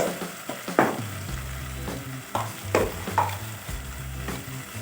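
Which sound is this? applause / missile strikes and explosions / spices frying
spices frying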